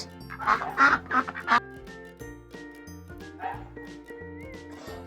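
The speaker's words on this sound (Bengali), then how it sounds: "এটা হলো হাঁস। হাঁসকে ইংরেজিতে বলে ডাক।" A domestic duck quacks in a few loud nasal bursts early on, then fainter calls follow over a musical backing.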